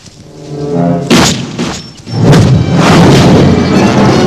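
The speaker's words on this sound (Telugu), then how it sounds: "ఈ పిస్టల్ సౌండ్ ఏంట్రా?" Pistol gunshots in a Telugu film scene: a loud booming report, then a second blast that trails into sustained rumbling noise.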